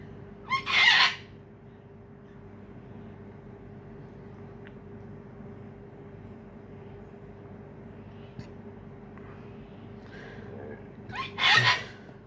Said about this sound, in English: That's our other bird calling out to him, saying, come on.